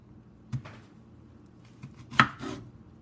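A few sharp knife chops through green plantains on a board, spaced irregularly, close and crisp in an otherwise quiet kitchen.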